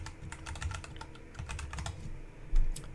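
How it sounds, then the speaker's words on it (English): Fingers tap on a computer keyboard in quick, uneven clusters of clicks, close and fairly quiet, with a brief pause before a final few keystrokes. "I'll just type in Baron Fig Key."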